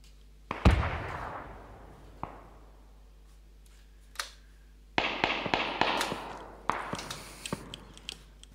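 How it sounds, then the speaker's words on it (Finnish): Distant gunfire in PUBG, heard as scattered sharp cracks with echoing tails, then a denser burst of irregular shots, fairly faint and without talk over it. "tuolta kuuluu jostain ammuskelua"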